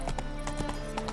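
Horse hooves clopping in The Witcher 3: Wild Hunt game, a close, steady galloping rhythm of sharp repeated thuds over a constant low background hum.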